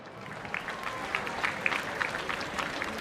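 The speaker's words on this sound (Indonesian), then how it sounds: "boleh kita beri tepuk tangan sekali lagi" An audience at an Indonesian flag-return ceremony for the Independence Day Paskibraka honors applauds, a steady, fairly faint patter of clapping that runs throughout.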